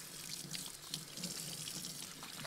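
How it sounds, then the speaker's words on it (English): Hands are washed under a running tap, a steady near hiss of flowing water with light splashing and dripping as the hands move through the stream; no talk. "I'm going to get my hands washed up while y'all look at that"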